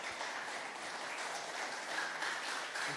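A gathering at a Christmas service gives the pastor another round of applause, a soft continuous wash of clapping heard from a distance at low level, without talk.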